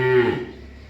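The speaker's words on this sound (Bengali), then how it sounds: "এই বকনাটা আসলে একটা ফ্রিজিয়ান বকনা বাছুর" A Friesian heifer calf gives a single short, close moo that fades quickly.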